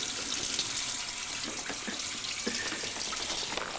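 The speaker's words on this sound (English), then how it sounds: "I'm washing dishes." Tap water runs steadily into a sink as dishes are washed, a continuous splashing hiss broken by a few light clinks and knocks.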